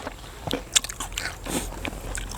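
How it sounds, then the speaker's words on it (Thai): Someone bites into Isan-style beef with fresh vegetables, heard up close as a few sharp crunches and wet chewing sounds in quick succession. "กัดเข้าไปเลย"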